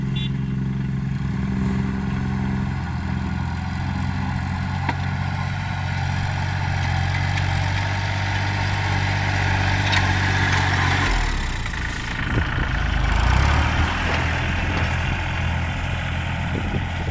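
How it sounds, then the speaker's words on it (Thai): A Kubota L3408DI tractor's diesel engine runs steadily at idle, a low rumbling drone that shifts and roughens briefly near the end, with no talking. "ที่เหลือก็จะเป็นหน้าที่ของรถไถครับคูบาต้า L3408DI"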